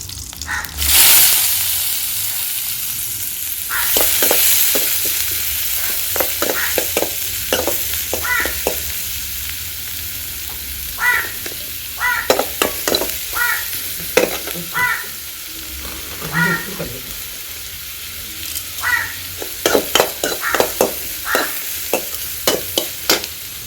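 Dried red chillies and onions fry in a pan, a steady sizzle under repeated clustered scrapes and taps of a spoon stirring against the metal, close and moderately loud throughout.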